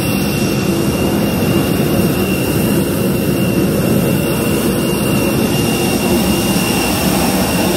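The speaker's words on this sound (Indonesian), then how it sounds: "Kita naik pesawatnya agak kecil." Jet engines of a small passenger airplane drone steadily and loudly inside the cabin on a flight from Abu Dhabi to Athens, a continuous, even roar with a faint high whine and no talking.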